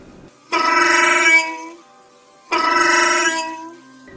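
A phone rings loudly twice, each ring a buzzy electronic tone lasting about a second with a pause between, heard alone and close.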